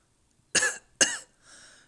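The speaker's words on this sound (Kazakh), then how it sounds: "Чё-то жөтеліп жүрмін." A person coughs twice in quick, sharp bursts close to the microphone, followed by a softer, breathy third exhale, in an otherwise quiet room.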